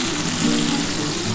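Tomato and green chilli go into a mustard paste with a little water in a pan, giving a brief, steady close sizzle with a watery hiss.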